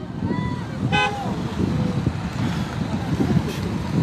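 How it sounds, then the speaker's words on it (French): A car horn toots briefly amid the noise of a citizens' freedom rally, with crowd murmur, wind and talk all around it. "Ah, ça klaxonne."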